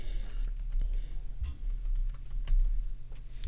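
Close computer keyboard typing in quick irregular bursts of clicky keystrokes while naming an audio track in Premiere Pro 2015, with a low steady hum beneath and no voices.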